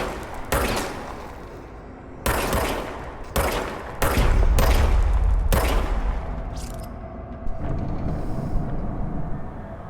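The service weapon fires in the video game Control: a series of sharp, loud shots in uneven bursts, some close together, with a heavy rumbling boom in the middle and a lingering echo between volleys.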